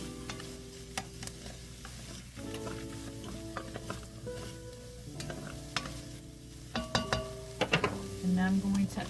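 Garlic being stirred into a pot while making plantain soup, a spoon scraping and stirring over a steady sizzle, with clinks and bumps of utensils against the pot growing louder toward the end.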